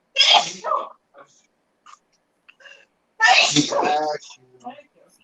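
Two loud, close sneezes from one person, the first short and the second longer and more forceful, separated by quiet gaps with a few faint small sounds.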